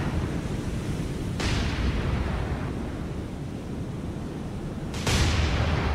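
Naval gunfire from the cruiser St. Louis in the War on the Sea game, two sharp booming salvos several seconds apart cracking over a constant rumble of sea and battle noise.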